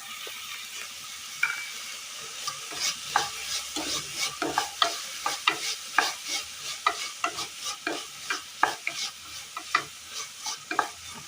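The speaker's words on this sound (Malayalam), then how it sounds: "ഇതിലേക്ക് കറിവേപ്പില ഇട്ട് കൊടുക്കാം" Curry leaves dropped into a pan of Kerala breakfast curry and stirred, giving a steady close sizzle and frying hiss broken by repeated scraping stirs, alone without voices.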